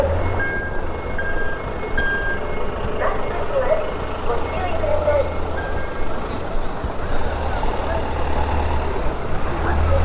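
A garbage truck rumbles steadily on an Osaka pedestrian street as it collects rubbish at night, with a low engine drone, a few faint beeps, and distant voices.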